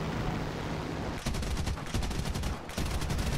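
Rapid bursts of aircraft cannon and machine-gun fire in the War Thunder flight game, loud and close, with a steady engine drone throughout and a brief gap before a second volley.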